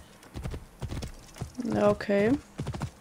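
Horse hooves clip-clop in a steady rhythm as a horse is ridden in Assassin's Creed Origins, close and distinct, while someone talks over them.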